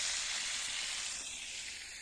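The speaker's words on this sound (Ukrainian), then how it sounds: "А це ось смажемо реберця ось такі." Pork ribs sizzle on an outdoor barbecue grill at a countryside home, a close, continuous hissing crackle of fat and meat juices holding steady throughout, with no voices.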